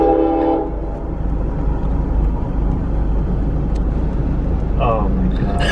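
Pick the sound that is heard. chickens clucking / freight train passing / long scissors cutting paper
freight train passing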